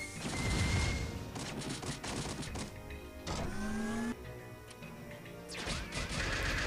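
Crashing impacts and bursts of effects from a strike shot attack in the Monster Strike mobile game, fighting the boss Yamato Takeru Zero, with dense layered game sounds and a rising tonal sweep midway, loud and continuous without talk.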